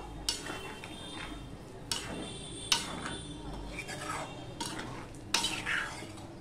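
A vegetarian curry made without onion or garlic is stirred in a pan, with repeated scraping strokes and light clinks of a utensil against the pan over a faint background hiss, fairly quiet and close.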